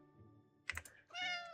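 A kitty in the game Animal Shelter 2 gives one short bright meow after a couple of quick keyboard clicks, clear and close over a faint background hum.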